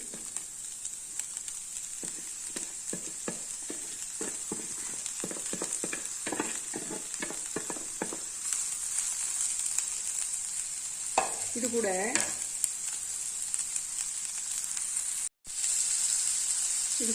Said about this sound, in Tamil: நம்ம இந்த ஸ்டேஜில் சாதத்தை வந்து இதில் சேர்த்துடலாம் நல்லா வந்து இதை ஹீட்டாக வச்சுக்கிட்டே நீங்கள் இது பண்ணுங்கள்